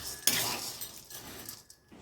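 Cooked sabudana is scraped out of the cooking pot into a wide vessel, with a sharp metal clank followed by softer scraping and spoon-on-metal knocks, close and fairly quiet.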